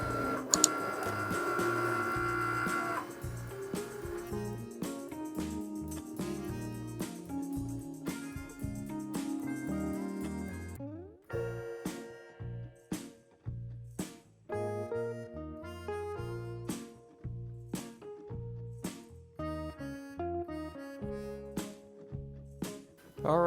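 A Cricut Maker cuts a holographic thread vinyl decal with a close, steady mechanical whir, then a run of rapid ticking and clicking as the carriage moves back and forth.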